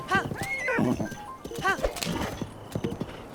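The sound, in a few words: horse riding in Zelda Breath of the Wild video game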